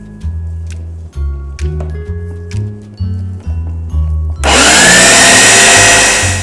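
A blender grinds quinoa grains in short loud pulses, then runs continuously in a dense, roaring whir to the end.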